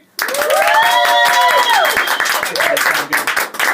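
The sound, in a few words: studio audience clapping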